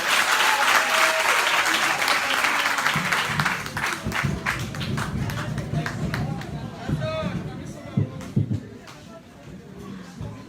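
Large crowd applauds warmly for Sierra Leone's First Lady, Fatima Maada Bio, at a public gathering. The clapping is dense and sustained, thins toward the end, and has voices mixed in.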